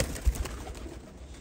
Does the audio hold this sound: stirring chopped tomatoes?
no